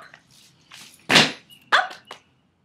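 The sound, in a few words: small dog barking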